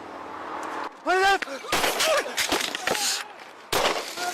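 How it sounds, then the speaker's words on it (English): Gunfire erupts during a police traffic stop, sharp loud bangs in rapid bursts through the clip, mixed with tonal siren-like or shouted sweeps and a final loud burst near the end. "Key 15 shots fired!"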